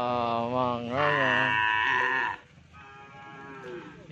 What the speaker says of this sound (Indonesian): banyak sapi kecil.